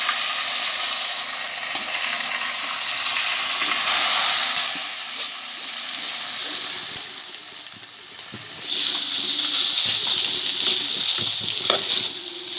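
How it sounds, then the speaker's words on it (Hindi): Cabbage frying in hot homemade ghee in a pot on a gas flame gives a loud, continuous close sizzle and hiss, with occasional stirring scrapes and no talk. "अब हम घी में गोभी डालेंगे।"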